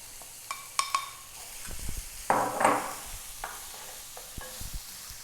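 Ground coconut, green chilli, cumin, garlic and small onion paste frying in a pan for jackfruit seed thoren, with soft sizzling, a few scraping stirs and light clinks of a utensil against the pan, close and quiet.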